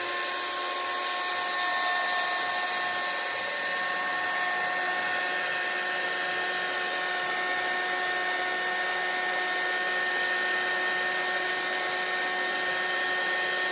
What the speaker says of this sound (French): je vais venir chauffer ça avec mon heat gun